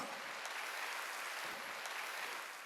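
A church congregation clapping during a Sunday worship service, the applause faint and distant but continuous and even across the short stretch, with no talking over it.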